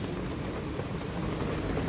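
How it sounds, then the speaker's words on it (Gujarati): Steady rain falls in a continuous, even hiss with no voices, a dense wash of sound throughout. "અને હાલ વરસાદ ચાલુ જ છે"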